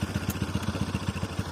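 A motorbike engine with a worn, bald front tyre putters close by in a quick, even rhythm of low thumping pulses, steady and moderately loud, with no voices over it.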